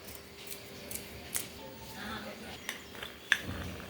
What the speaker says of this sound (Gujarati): તેની અંદર આપણે નાગરવેલના 4-5 પાન છે, તેને આપણે ઝીણા ઝીણા કાપી કાઢીશું